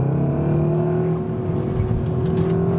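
A 300-horsepower all-wheel-drive Seat Leon Cupra R ST estate accelerates on a race track, its engine note rising steadily and loudly from inside the car.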